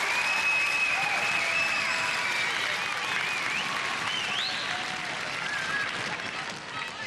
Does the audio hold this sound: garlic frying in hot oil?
no